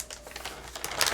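Light typing on a mechanical keyboard fitted with Type R switches, a quick run of soft, clacky keystrokes heard faintly and close by, with no talking.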